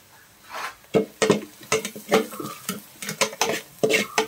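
Spatula stirring an egg mixture in a frying pan for egg fried rice, with repeated scraping and clinking strokes close by in an irregular rhythm and light sizzling underneath.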